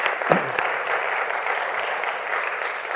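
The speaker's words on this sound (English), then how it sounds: "please give him a big round of applause" Steady audience applause fills the room for an honoured World War II veteran, a dense, even wash of many hands clapping, sustained at moderate level throughout.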